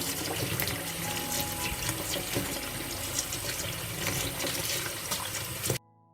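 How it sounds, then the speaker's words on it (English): Fresh blueberries are rinsed under a running kitchen tap, with a steady, close rush of water and small splashes lasting until it stops abruptly near the end. "I'll wash the blueberries first."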